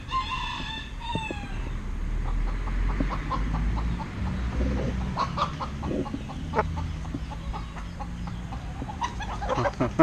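Large Brahma roosters crow and cluck in a farmyard, an early crow followed by scattered short clucks and pecking sounds against steady low background noise.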